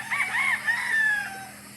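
A rooster crows once on a farm, a loud, clear, drawn-out call lasting under two seconds and fading at the end.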